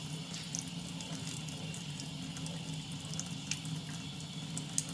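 Water running from a tap while rinsing seeds out of a chile for chile relleno, a steady faint splashing stream over a low kitchen hum with a few small drips.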